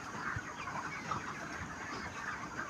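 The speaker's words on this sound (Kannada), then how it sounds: "ನೋಡ್ರಿ ಇಲ್ಲಿ ಕೋಳಿಗಳು ಹೆಂಗೆ ಕಾಳು ತಿನ್ನತ್ತಾವ್ರಿ." Chickens cluck softly while pecking at grain in a village yard, low scattered clucks over faint ambient background, no talking.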